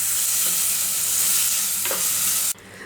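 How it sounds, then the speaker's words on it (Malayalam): Sliced onions and green chillies sautéing in a pan for chicken mulakittath, a loud continuous hiss of frying with a couple of faint spatula scrapes, close by, ending abruptly. "സവാള നന്നായിട്ടൊന്ന് വഴറ്റിയെടുക്കുക"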